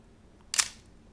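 One quick, snappy shutter click from a Pentax K1000 35mm film camera at 1/1000 second, close up and brief, standing alone against near silence.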